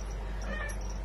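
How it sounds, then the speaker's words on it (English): A cat meowing outside, a faint, distant meow heard over a steady low hum of indoor room noise. "there's a cat outside. Did you hear that?"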